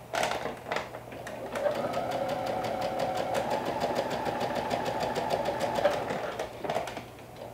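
A domestic sewing machine runs steadily, stitching long basting lines 3/8 and 5/8 inch from the edge of a garment seam allowance, its close, even mechanical whir continuing for several seconds without a break.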